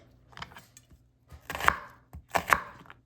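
A knife chops chicken on a cutting board in a few irregular strikes, some soft and two sharper, in a quiet room.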